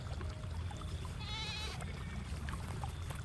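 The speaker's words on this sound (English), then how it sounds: "An adventure with a goat." A goat on a farm gives a single wavering bleat of about half a second, faint against a constant low rumbling background.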